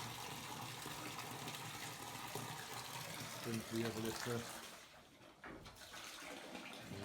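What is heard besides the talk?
filling a sow's water trough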